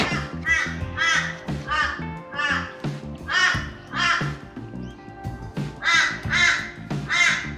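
Outdoors, a bird caws over and over in loud, harsh, crow-like calls that repeat steadily and dominate throughout, with a faint low hum underneath.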